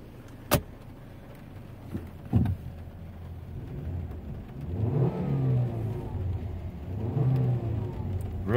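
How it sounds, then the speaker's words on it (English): A 2008 Volvo C30 engine runs at a steady idle close by. It rises twice into brief revs with audible whirring, and a few sharp clicks and knocks come early on. No one talks. "Really smooth running car."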